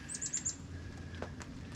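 Wild birds chirp in the woods, with a quick run of four high tweets at the start and a few scattered calls later, fairly faint over steady outdoor background.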